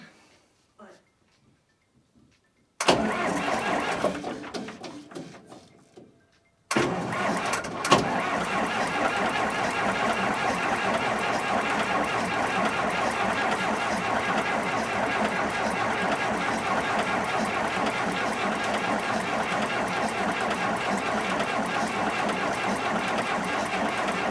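A 1961 Volvo BM tractor diesel engine, weak on number 3 injector, cranks briefly after a quiet stretch, then catches and runs at a steady, even idle with a loud constant clatter and drone.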